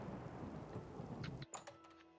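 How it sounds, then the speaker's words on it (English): Steady rain hiss with rumbling thunder in the video game Oblivion Remastered, the downpour fairly loud throughout, then cut off abruptly partway, leaving a few scattered clicks and tones. "Nice rainy day."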